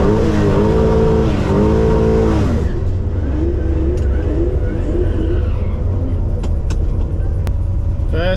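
A Holden Kingswood on its first drag run at Sydney Dragway, engine roaring loud and close with rising revs through gear changes, then a sustained rumbling drone as the car pulls away down the strip.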